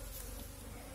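Honeybees buzz steadily at an opened two-storey hive just out of winter, a dense, continuous drone close by with no talk.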